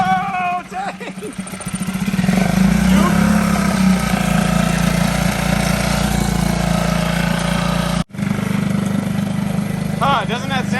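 A small portable Mercury or Yamaha outboard motor starts and runs at a steady, buzzing drone, close and loud, dipping briefly near the end before resuming, with voices heard over it.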